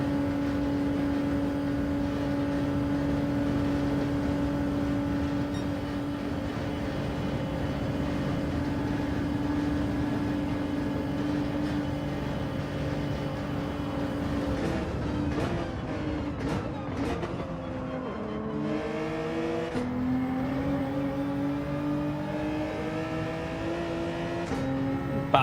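A Toyota Supra race car in Gran Turismo 7 drones along at high speed, its engine tone holding steady before shifting and rising through several gear changes near the end.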